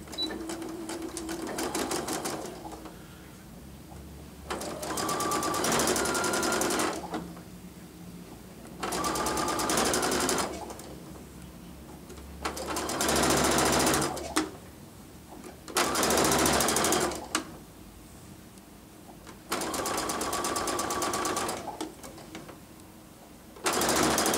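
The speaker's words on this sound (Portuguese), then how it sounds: "E vou costurar a 1/4 polegada." A sewing machine stitches a quarter-inch seam along a continuous binding strip, running in steady bursts of a second or two separated by short pauses, close and clear with no talking.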